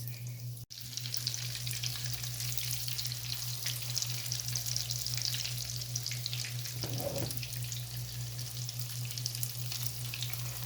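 Aloo tikki (potato shami kebab patties) fry in hot oil, giving a steady, close, continuous sizzle with no voices, broken only by one brief dip near the start.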